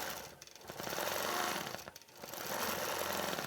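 A quilting machine stitching out fullness in a quilt, a rapid mechanical chattering buzz in two long bursts separated by brief pauses, close and alone.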